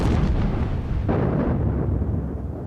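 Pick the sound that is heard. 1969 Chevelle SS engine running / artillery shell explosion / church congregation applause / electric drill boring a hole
artillery shell explosion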